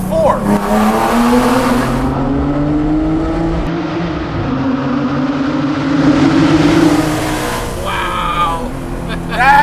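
A Guntherwerks Porsche 400R with a 4-liter Rothsport engine of 435 horsepower accelerates hard in second gear, its loud engine note climbing steadily and then dropping off at a gear change, heard from close inside the car.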